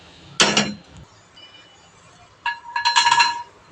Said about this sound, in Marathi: हे आपण आता असे काढूया प्लेटमध्ये.